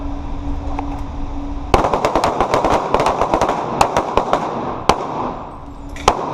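Taurus G2C pistol shots fired at an indoor range during a defensive pistol class, a fast string of sharp, loud reports with an echoing tail, followed by a few more isolated shots.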